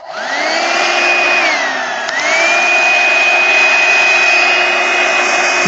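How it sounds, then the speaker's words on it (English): A hair dryer blows on its cool setting at close range, a loud continuous whine with a brief dip in pitch partway through. "maybe I've got my hair dryer that I can do on cool."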